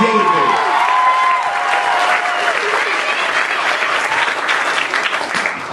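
Loud audience applause with scattered cheers fills a poetry reading venue as a poet named David takes the stage, a dense steady wash of clapping throughout with no voice speaking over it.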